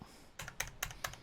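Quiet keystrokes on a computer keyboard tap in a short run of about five clicks, evenly spaced and close, with no talking.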